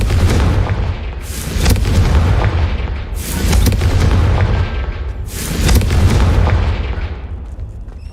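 Confringo fire spell blasts in the video game Hogwarts Legacy: three loud booming explosions a couple of seconds apart, each with a rumbling decay.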